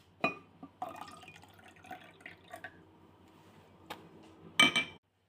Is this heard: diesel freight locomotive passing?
no